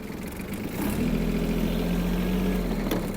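Yanmar KE-50 mini tractor pulling away in second gear, its small diesel engine droning steadily and close by, rising slightly in load about a second in and holding an even hum with no voices over it.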